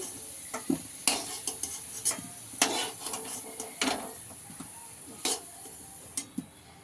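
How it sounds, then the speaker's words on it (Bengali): Fried potatoes lifted out of hot oil in a home kitchen, with a steady sizzle under repeated sharp metal clinks and scrapes of a utensil against the pan, close and moderately loud. "তো আমি আলুগুলোকে তুলে নিচ্ছি।"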